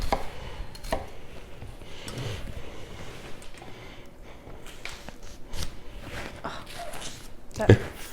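A Takamura kitchen knife chops through an onion on a board, giving soft, irregular knocks and slicing sounds while a person talks over them.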